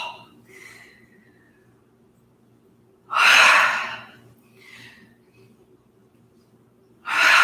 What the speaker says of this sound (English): We're going to inhale up, inhale down, inhale up, exhale, fold.